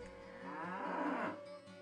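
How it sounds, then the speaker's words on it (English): A cow lowing in the Diablo roguelike video game, a single drawn-out moo that swells and fades over about two seconds, moderately close, with no talking. "those aren't cyber demons, those are merely cows, and they moo"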